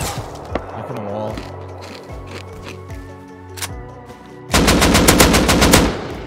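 Gunfire in the survival game Rust: a few isolated shots and mechanical clicks, then a loud rapid burst of automatic fire in the last two seconds, close and dominant.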